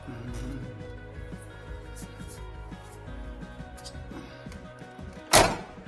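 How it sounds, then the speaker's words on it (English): A single sharp door thunk of a 1959 Edsel car door with new weatherstrip lands near the end, loud and close, after several seconds of low rumbling background and faint clatter. "I think we'll make sure the door shuts."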